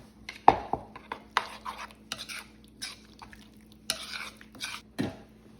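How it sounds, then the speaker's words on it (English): Chopped eggs stirred into a sauce gribiche in a bowl, a soft series of scraping and clinking utensil strokes against the bowl with brief pauses, close and moderately quiet, with no talking. "Give it all a stir to make sure they're well incorporated."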